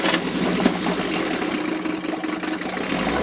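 A Johnson 4 HP outboard motor runs steadily after a cold start with the throttle slightly open, a loud, close, buzzing drone that holds evenly throughout.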